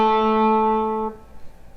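A guitar string is bent up in pitch and then released back down, a single sustained note ringing clearly for about a second before cutting off, with faint background noise after.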